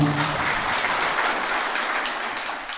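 A temple audience at a kirtan in Shivare, Nashik district, claps together in a dense, loud burst of applause that holds steady and slowly eases, with a brief murmur of voices underneath.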